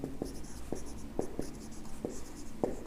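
Chalk or marker strokes on a classroom board during a maths lesson on large numbers, a series of sharp taps and scrapes roughly every half second, close and moderately loud over a faint room hum.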